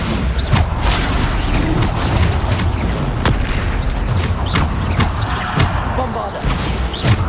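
Bombarda explosion spells cast during combat in Hogwarts Legacy: loud, dense game audio with repeated booming blasts, crashes and mechanical clatter running without a break.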